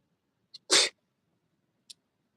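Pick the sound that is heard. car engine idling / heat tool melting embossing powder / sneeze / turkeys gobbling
sneeze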